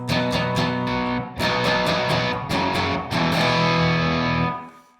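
Electric guitar through a Wampler Tumnus Klon-style overdrive pedal, playing strummed chords and picked phrases with a warm, lightly driven tone, close and alone, ending on a ringing chord that fades out.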